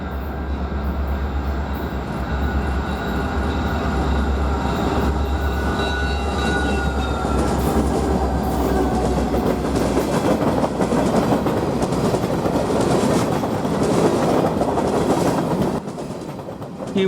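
A Wisconsin & Southern grain freight led by two yellow SD60M diesel locomotives rolls past at night on a Chicago railroad, loud and steady, with low diesel rumble, steady clickety-clack of cars and faint squealing tones.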